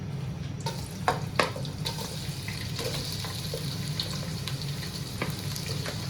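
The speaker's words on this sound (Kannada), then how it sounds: "ಮೊದಲು ಈರುಳ್ಳಿಯನ್ನು ಬ್ರೌನ್ ಕಲರ್ ಬರೋ ತನಕ ಫ್ರೈ ಮಾಡಬೇಕು ಗ್ಯಾಸ್ ಫಾಸ್ಟ್ ಇಟ್ಟು" Onions frying in oil over a high gas flame for Ambur chicken biryani, a steady close sizzle and crackle with a few scattered clicks and scrapes from a utensil.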